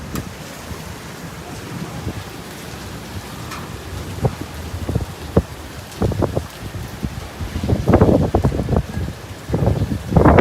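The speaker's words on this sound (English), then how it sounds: "Winds are blowing about 40 miles per hour." Hurricane Ida's winds, around 40 miles per hour, roar steadily outdoors with rain, building into stronger buffeting gusts and sharp bumps toward the end.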